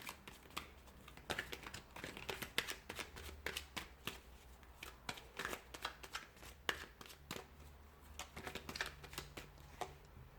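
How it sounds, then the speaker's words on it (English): Tarot cards are shuffled repeatedly in quick, crisp bursts of riffling and slapping, close up, with short pauses between rounds and no talking. "we'll give the cards a shuffle"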